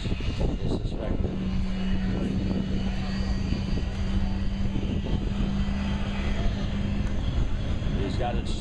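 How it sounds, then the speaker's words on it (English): A C-17 military transport aircraft roars at maximum engine power during a go-around at an airshow, a loud steady rumble and whine throughout, with a voice talking over it. "he's going to add max power to form a go-around maneuver using maximum power"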